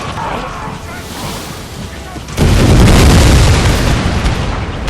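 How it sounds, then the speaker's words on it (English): Dragoon grenade volley explodes in Total War: Empire during a battle against Spanish infantry, a sudden heavy roar of blasts that rises out of rumbling battlefield noise and stays loud. "The dragoon grenade volley was unimaginably effective, wiping out an entire Spanish infantry unit in the blink of an eye."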